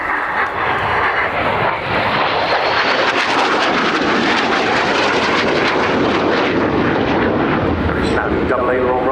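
An AV-8B Harrier II jet thunders through an aerobatic display at RIAT, a loud, continuous roar that swells and shifts as it passes, with a commentator talking over it.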